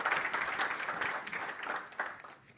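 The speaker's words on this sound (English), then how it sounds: "and round of applause." Audience applause follows a presentation at a hydrogen summit, a moderately loud, steady clapping that thins slightly toward the end, with no talk over it.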